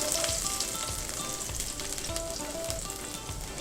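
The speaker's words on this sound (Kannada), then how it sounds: "ಈಗ ಫ್ರೈ ಮಾಡ್ಕೊಳ್ಬೇಕು" Chopped garlic sizzles steadily in hot oil in a pan, a dense, continuous frying crackle with small pops, close and fairly loud, no talking.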